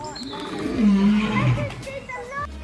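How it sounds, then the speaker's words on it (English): A lion gives a deep, rumbling roar that swells and fades over a couple of seconds, with a voice talking over it. "The lion roar is probably the deepest noise an animal can make"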